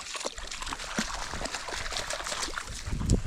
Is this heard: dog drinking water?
yes